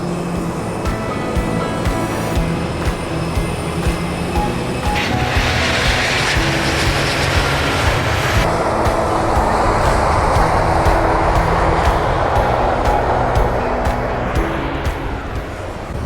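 A Fiji Airways Airbus A350 jet arriving from Auckland, a loud continuous engine roar and broadband rush that swells midway, heard from an airport vantage point without talk.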